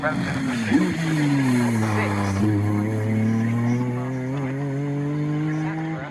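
A 1990s BMW E36 M3 race car lapping Snetterton in a BRSCC Clubsport Trophy race gives a loud, sustained engine drone that rises and falls in pitch as it revs, with a commentator talking over it.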